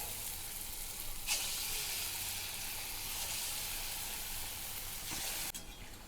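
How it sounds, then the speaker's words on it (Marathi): Urad dal bhaji fry in hot oil on a gas stove, a steady close sizzle and hiss that swells briefly as more batter goes in, with no voices. "गॅसवर तेल ठेवलेलं आहे, तेल तापत. मी एक एक भजी यात सोडून घेते."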